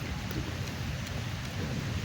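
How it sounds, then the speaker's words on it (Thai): Steady rain falls outdoors in Thailand, a continuous broadband hiss with a low rumbling undertone that holds even throughout. "ฝนตกแล้ว"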